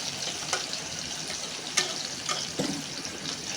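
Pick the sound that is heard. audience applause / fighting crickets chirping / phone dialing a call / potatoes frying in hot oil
potatoes frying in hot oil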